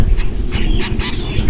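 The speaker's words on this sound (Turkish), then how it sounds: "Bakın şurada galiba kuş sesi var." Several short, harsh calls from common myna chicks ring out in quick succession over a low background murmur.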